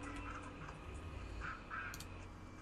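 Ducks in World of Warcraft quack a few times, soft and scattered over a steady low game ambience.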